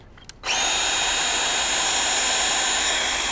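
A DeWalt DCPW550P1 cordless pressure washer drawing water from a bucket starts abruptly after a short quiet moment, then holds a loud, steady high-pitched motor whine while priming.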